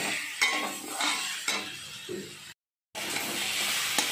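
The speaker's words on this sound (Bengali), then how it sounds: "এবার সেদ্ধ করে রাখা কচুটা দিয়ে দিচ্ছি। খুব সুন্দর সেদ্ধ হয়ে গেছে। এভাবে একটুক্ষণ ভালো করে নাড়াচাড়া করে নিচ্ছি।" Boiled taro tossed with onion and tomato in a wok, a soft steady sizzle with utensil scrapes and taps against the pan every half second or so, broken by one brief silent gap.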